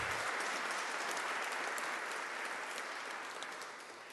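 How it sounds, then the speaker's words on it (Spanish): A conference-hall audience gives sustained, dense applause welcoming Dr José Sarukhán, national coordinator of CONABIO, before his keynote lecture; the clapping stays full and steady, then thins slightly toward the end. "un fuerte aplauso"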